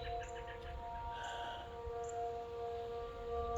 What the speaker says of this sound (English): And I'm also hearing a Tempest siren of some kind.